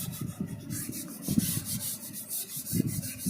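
Steady back-and-forth rasping of a rubber sanding block on car body filler, rhythmic strokes close up with no talking.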